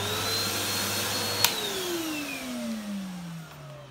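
Numatic Nuvac VNP180-11 vacuum cleaner motor with a slightly grumbly tone, whirring steadily close up, then its pitch slides downward as the motor winds down after a small click.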